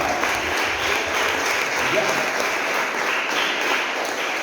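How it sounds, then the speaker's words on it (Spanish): A congregation in a Spanish-language church claps throughout a sermon in a thick, continuous, fairly loud wash of applause with no pauses. "Está bien, aplauda"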